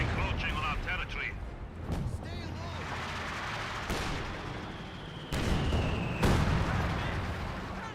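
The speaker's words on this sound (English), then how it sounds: "Good mortar hits there." Mortar shells land in Company of Heroes 2 with heavy booming impacts over a constant battlefield rumble, with a few sharp blasts spaced several seconds apart.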